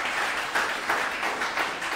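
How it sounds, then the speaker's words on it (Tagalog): Church audience applauding during a sermon, a dense, steady wash of many hands clapping together, moderately loud and brief, with no talking over it. "pumalakpak ng the best kay Lord"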